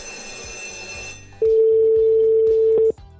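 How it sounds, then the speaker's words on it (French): A white rotary dial telephone's bell rings loudly and steadily for about a second and a half, alone, after a stretch of quieter background noise. "ce que vous entendez là, c'est le son du téléphone"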